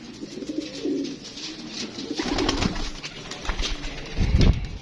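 Pigeons cooing in repeated soft, throaty phrases close by, with occasional rustles and a louder burst near the end, no talk.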